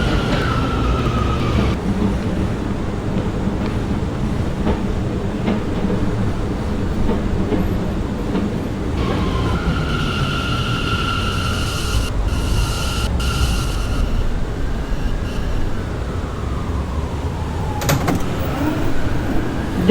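An R179 M subway train runs with a steady rumble and clatter, then its doors close with a chime and thud before the train pulls off with rising motor whine.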